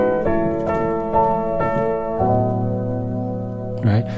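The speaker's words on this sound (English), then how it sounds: "So all of these changes are the sound of the sus going to the dominant" Hammond organ playing sustained chords, suspended voicings resolving to dominant ones, several short re-struck changes followed by a longer held chord, clear and close with no talking.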